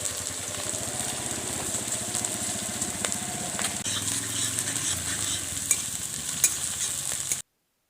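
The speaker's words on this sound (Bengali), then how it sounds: "তেল গরম হয়ে গিয়েছে, এবার আমি বিনস গুলো তুলে দেবো।" Green beans sizzling and crackling steadily in hot oil in a pan, a loud, continuous frying hiss with occasional stirring scrapes, no voices, cutting off abruptly at the end.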